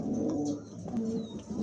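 A male pigeon cooing nearby, soft low throaty coos repeating a few times over faint background noise.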